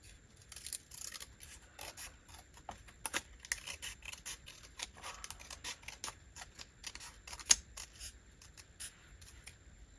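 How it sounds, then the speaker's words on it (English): Scissors snip and trim paper for a handmade shabby chic journal folio, a run of quick, close, quiet cuts with soft rubbing of paper in between and no talking. "Okay, let's trim this down."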